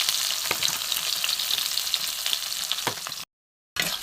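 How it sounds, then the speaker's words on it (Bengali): Chopped onion and crushed garlic fry in oil for a thin goat curry cooked over a wood fire, making a loud, steady close sizzle with a few stirring clicks and a short dropout near the end. "ভালো করে একটু ভেজে নেবো, কাঁচা রসুন গন্ধটা যাতে চলে যায়।"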